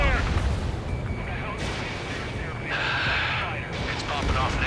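Anti-aircraft fire and explosions from a combat flight game thunder in a dense, continuous rumble of booms and rapid shots, with a brighter burst of fire partway through.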